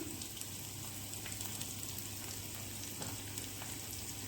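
Spices sautéing in hot oil for mirchi vada filling: a soft, continuous sizzle and crackle, steady and faint throughout, with no talking.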